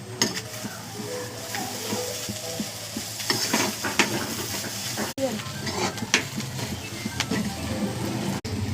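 Food with coriander stirred and fried in a pan, a loud steady sizzle close by with repeated scraping of the spoon against the pan throughout.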